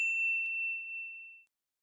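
A clean bright notification bell rings twice, a single ding followed by a second strike half a second later, both ringing out and decaying smoothly over about a second and a half with nothing else around them.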